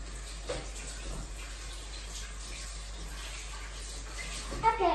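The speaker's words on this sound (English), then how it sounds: "Let's wash my hands." Tap water runs steadily into a sink during handwashing, a soft constant rush close by with slight splashing, getting a little louder at the end.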